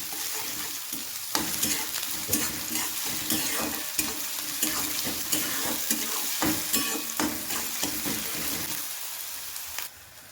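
Chopped onion, green chilli and garlic sizzle and fry in a hot pan while being stirred, with steady crackling and repeated scraping knocks of a spoon throughout, ending abruptly.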